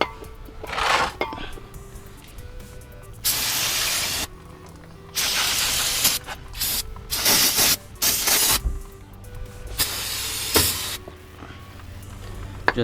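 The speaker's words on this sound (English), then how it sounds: "just go ahead and spray everything down with some brake cleaner" Brake cleaner hisses from an aerosol can in several bursts of varying length onto car brake parts during a big brake kit install on a Honda CB7, with short pauses and faint clinks between sprays.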